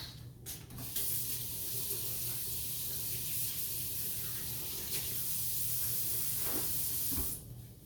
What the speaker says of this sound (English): Let me give my hands a good wash.